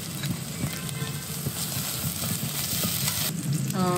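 Ginger garlic paste frying in a pan for egg fried rice, a steady close sizzle with occasional stirring scrapes and no voices.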